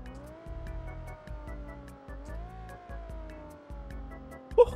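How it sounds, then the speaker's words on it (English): Nissan 370Z engine in BeamNG.drive blipping through a series of downshifts, each gear change a sharp rev spike and drop in a rhythmic sequence, ending with a louder burst of noise. "They're downshifts."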